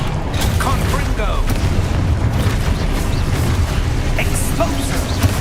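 Confringo fire spell explosions in Hogwarts Legacy combat, loud booming bursts over a constant dense roar of battle noise, with a voice calling out throughout.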